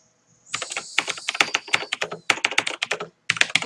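Rapid clattering keystrokes on a computer keyboard during a late-night Minecraft server setup, coming in dense bursts with brief pauses, close and fairly loud, with no voices.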